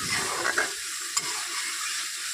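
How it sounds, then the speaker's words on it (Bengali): Spices with dried red chili powder sauté in hot oil for a fish curry, a steady broadband sizzle with brief stirring scrapes and a spatula clink, no talking. "এটা দেওয়ার পরে বেশ ভালো করে একটু কষিয়ে নিতে হবে যাতে মশলার গা থেকে তেলটা ছেড়ে দেয়"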